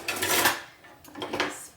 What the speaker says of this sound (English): get a wooden spoon to stir